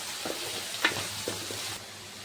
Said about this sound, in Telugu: వేపాకును కూడా వేసుకుని ఉల్లిపాయలతో పాటు వాటిని కూడా వేగనివ్వాలండి.